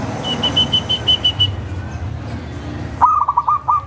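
A person whistles a string of short high notes, and then a zebra dove answers with a quick, trilling, repeated cooing phrase, close and clear.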